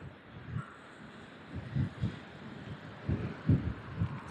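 Wind buffets the microphone during a coastal cycling trip in Kent, a faint steady rush broken by repeated low gusty thumps that grow stronger toward the end.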